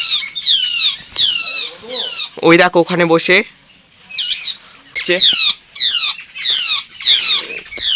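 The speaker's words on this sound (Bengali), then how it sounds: "দেখো, এই দেখো চারিপাশে এখন কিচমিচ চলছে" Birds squawk and chirp in repeated, loud, near bursts around a rooftop, overlapping harsh calls with short gaps between them, while a person speaks briefly among the calls.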